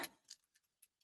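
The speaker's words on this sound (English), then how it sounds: "let's go and roll the dice" Dice are rolled for a tarot reading, a sharp clatter followed by a handful of small, quick ticks as they tumble and settle, close and quiet with no talk.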